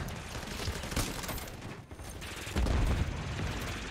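Sentry gun in a Call of Duty shooter firing steady rapid bursts at moderate distance, mixed with other gunfire and a louder heavy burst near the end.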